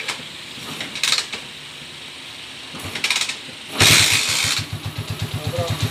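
A motor engine that had stalled is restarted. A couple of brief cranking attempts are followed by the engine catching loudly and settling into a close, rhythmic, pulsing idle.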